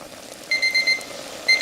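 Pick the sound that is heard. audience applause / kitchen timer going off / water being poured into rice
kitchen timer going off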